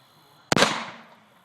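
One loud, close 12-gauge shotgun blast of 00 buckshot fired at a water heater outdoors, with a sharp crack and then a decaying echo.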